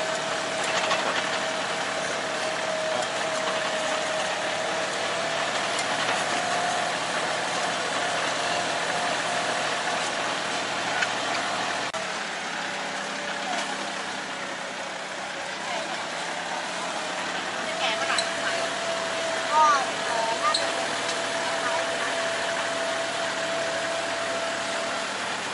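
A tractor engine chugging steadily at a distance under a constant outdoor rumble, towing a trailer near rice fields, with occasional rattles and clanks, while people talk faintly.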